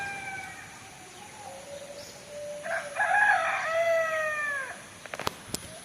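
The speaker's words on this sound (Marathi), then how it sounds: "सकाळच्या वातावरणात पक्षी वगैरे सगळे कोंबडे वगैरे ओरडत असतात" A rooster crows once, loud and drawn out, over a quiet outdoor morning background in Konkan near Chiplun, followed by a few sharp clicks.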